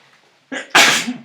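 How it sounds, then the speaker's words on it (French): One close, loud sneeze, a short sharp intake followed by an explosive burst of breath. "J'ai envie d'éternuer."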